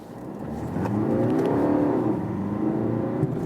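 Diesel car pulling away from a traffic light in Sport mode, engine rising steadily in pitch and loudness as it accelerates through the revs, close and continuous with no talking.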